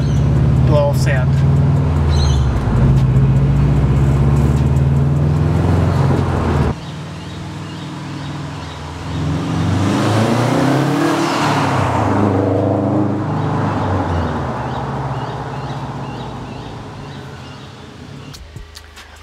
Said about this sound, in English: But what it does do is you get a lot more of the whooshing from the turbo and the blowback